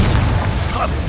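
A Confringo fire spell blasts in Hogwarts Legacy, a single dense burst with a booming low rumble sustained for about a second, loud and close.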